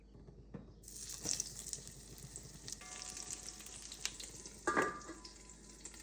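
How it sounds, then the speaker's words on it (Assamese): Eggplant fries in a pan with a soft, steady sizzle, broken by a few sharper spits and stirring clatters, quiet and close in a home kitchen. "বেঙেনাখিনি ফ্ৰাই কৰি আছোঁ।"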